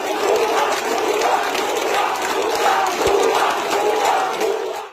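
Crowd of students chanting and shouting together while blocking the Lalmonirhat–Burimari highway during a protest march; a dense, steady roar of many voices throughout, rising and falling slightly.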